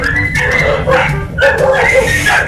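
A dog whimpers and yips in short, high, whining bursts close by, with voices mixed in.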